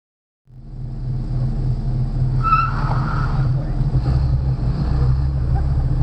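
An autocross car runs past and across the finish line, a steady loud engine and wind rush that starts abruptly and holds for several seconds.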